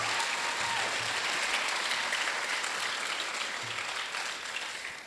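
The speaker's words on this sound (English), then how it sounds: "You can cheer that if you want." An audience at a primary school prestige evening applauds steadily and loudly for several seconds, with the clapping tapering off slightly toward the end.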